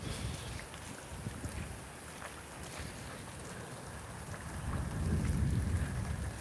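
Thunder rumbles during a Florida rainstorm under a steady hiss of rain, with a deeper, louder roll swelling near the end.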